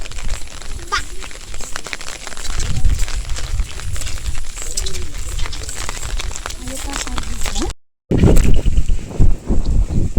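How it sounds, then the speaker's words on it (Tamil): Heavy wind buffeting the microphone in a continuous loud roar during a rainy drive in Valparai, with voices talking underneath and a brief dropout near the end. "சரியான காற்றடிக்குது"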